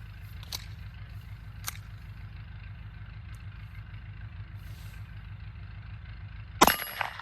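Cartridges are loaded into a Walther P22Q pistol magazine: a couple of faint, isolated clicks over a low steady hum, then a sharp metallic clack near the end, with no talking.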